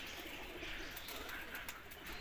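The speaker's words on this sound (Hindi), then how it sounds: "आ रहा है कबूतर" A pigeon coos softly at a distance, its faint calls blending into steady background noise with no other sounds on top.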